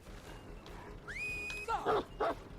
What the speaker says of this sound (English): Why can't I send dog? Why is the dog bugging out?